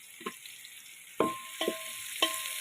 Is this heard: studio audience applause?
no